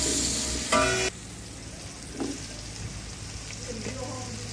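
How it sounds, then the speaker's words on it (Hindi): Soft sizzling of potatoes frying in a pan, fairly quiet, with a brief clatter near the start and faint stirring sounds. "आलूओं को हल्का सा फ्राई कर लेंगे।"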